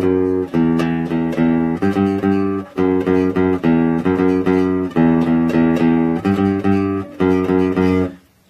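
A melody picked on a single guitar string: repeated sustained notes in short phrases with brief gaps between them, close and steady, with no talk.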